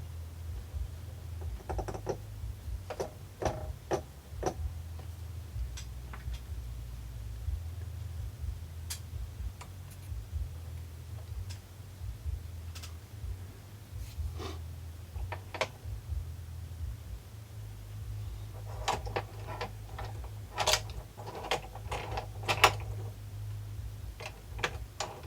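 A Sony PS-LX300USB turntable with a faulty, freshly oiled motor runs noisily, giving off a steady low hum with scattered ticks and clicks on top, close and alone.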